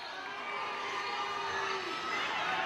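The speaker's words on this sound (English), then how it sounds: "What a frustration shown" High school girls' basketball crowd at Walker Valley versus Cleveland reacting in frustration to a foul call against the Lady Mustangs, a dense sustained roar of shouting and groaning voices filling the gym.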